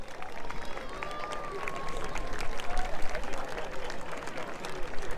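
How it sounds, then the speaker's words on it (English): A crowd claps at the Greeting to the Sun installation on the Croatian coast, a scattered patter of hands mixed with a bustling outdoor murmur and chatter, moderately near. "Why is everyone clapping?"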